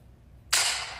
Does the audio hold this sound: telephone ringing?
no